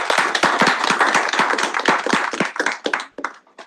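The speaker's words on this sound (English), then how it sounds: "Please give him a big round of applause, everyone." A meeting audience in a Senate session claps after a presentation. The dense, close bursts of hand claps come from a modest crowd and thin out toward the end.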